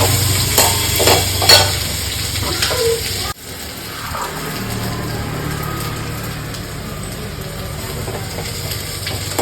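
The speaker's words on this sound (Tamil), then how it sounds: "பாருங்கள், வெங்காயம் நல்லா வதங்கிடுச்சு" Onion, ginger and garlic sauté in a pan for cabbage chutney, with steady frying sizzle and a few stirring scrapes early on, then a brief sharp dropout before the sizzle continues more evenly.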